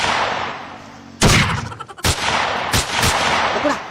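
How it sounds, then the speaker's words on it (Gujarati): Several loud, sharp gunshot-like bangs go off in an uneven burst, the first near 1.2 s and more following at irregular intervals, with no talking under them. "ફોડો ફોડો ફોડો બંદૂકો"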